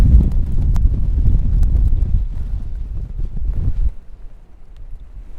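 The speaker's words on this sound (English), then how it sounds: "but the wind is blowing that direction." Wind buffeting a microphone outdoors in a low-cloud landscape, loud rumbling low gusts for about four seconds that then ease into a softer, lighter blowing.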